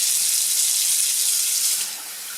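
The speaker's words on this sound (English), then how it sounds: "Fill up the bowl with water." Cold tap water runs loudly and steadily into a bowl to wash rice, a bright continuous gush close by that eases slightly at the end.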